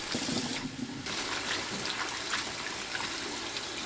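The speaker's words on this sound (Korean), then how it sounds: "쑥을 3번 씻어 주세요." Fresh mugwort leaves are rinsed in water, a steady splashing and trickling close by with a short pause partway through.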